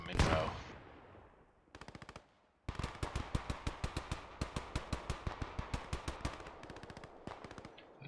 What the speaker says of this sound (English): And German MG from the east is suppressing the Allies on the hill now